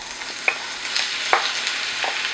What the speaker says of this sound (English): So my butter is melted, and now I'm adding there my pineapples,